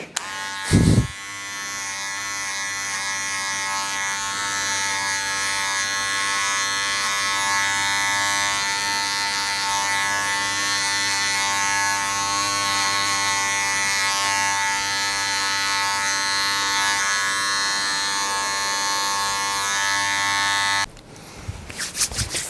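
An electric hair clipper fitted with a 3 mm guard cutting hair, a loud continuous close buzz that drones steadily for about twenty seconds before cutting off near the end.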